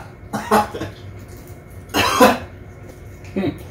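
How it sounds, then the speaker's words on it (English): A person coughs and chokes after eating extremely hot wings during a spicy challenge, with two or three harsh cough bursts close by and brief talk between them. "I'm coughing and choking over there."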